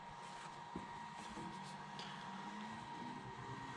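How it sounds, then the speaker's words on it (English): A diesel heater's power adapter gives off a faint, steady electrical hum with a high whine, alone in a quiet garage, with a few small clicks. "we're hearing the power adapter."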